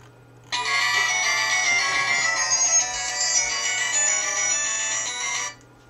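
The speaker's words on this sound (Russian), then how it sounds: "Даш, возьми телефон" A mobile phone ringtone bursts in and plays a bright, steady electronic melody for about five seconds, loud and close, then cuts off abruptly, with nothing else heard.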